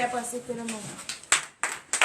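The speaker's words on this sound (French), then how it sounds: "Veuillez vous lever et donner l'acclamation à Jésus" A congregation at a morning prayer service in Comè, Benin, breaks into applause for Jesus, scattered claps building into bursts near the end after a voice speaks at the start.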